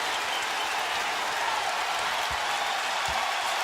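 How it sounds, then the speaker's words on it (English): A basketball crowd at a Kentucky vs Mississippi State game applauds a player's effort. Dense, steady clapping from a large arena audience fills the whole stretch without pause. "And the crowd appreciates the effort from 23."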